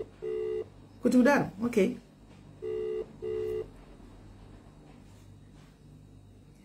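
A phone call being placed, with repeated tonal beeps of dialing and ringback in even bursts. A short stretch of speech breaks in partway through, and a low steady hum lies underneath.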